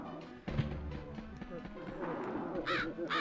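Crows cawing in the video game Medievil, harsh calls over a busy game soundscape of thuds and rumble, with a voice talking over it.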